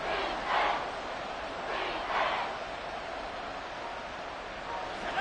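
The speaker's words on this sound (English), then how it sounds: "The crowd getting into it as we come up on a big third down." Roaring football stadium crowd building up before a big third down, a broad wash of cheering that swells in waves and holds steady throughout.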